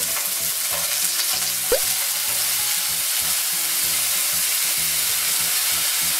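Three fish fry in hot oil in a pan over medium heat, giving a loud, steady sizzle and crackle throughout with occasional small pops and no talking.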